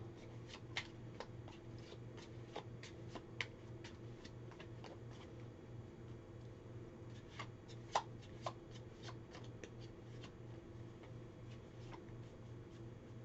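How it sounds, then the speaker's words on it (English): Quiet, steady card shuffling with small clicks and taps over a constant low hum, close by but soft. "gotta shuffle a little bit more"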